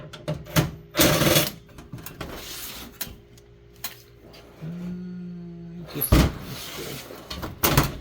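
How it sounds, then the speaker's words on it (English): Metal module being slid and pulled out of a Cisco WS-C3560X-48T-L 48-port gigabit switch chassis, with close scraping clunks, rattles and a brief whir, in irregular bursts with pauses between. "I'll move this module from the middle here"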